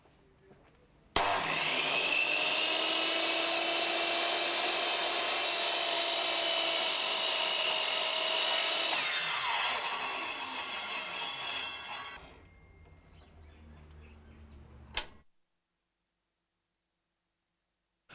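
A compound mitre saw spins up sharply and cuts through wood with a loud, steady whine for about eight seconds, then winds down in a falling tone, followed by a single sharp knock and silence.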